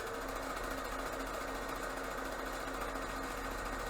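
Sewing machine stitching across a fabric face mask, a steady rapid whirring run of stitches, faint and continuous with no pauses and no talk.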